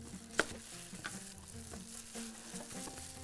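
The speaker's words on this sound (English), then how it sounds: "Now I'm going to add some vegetables in there with it. I'm going to add potatoes." Large potato chunks frying in a pot while Bahraini thareed is cooked, a steady soft sizzle with faint stirring taps and a sharper clink near the start, quiet and without talk.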